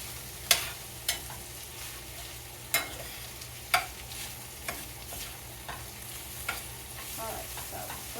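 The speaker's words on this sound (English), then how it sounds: "we're getting this nice and brown and caramelized" Food sizzles and browns in a frying pan in a home kitchen, a steady crackling fry broken by sharp utensil taps and scrapes against the pan every second or so.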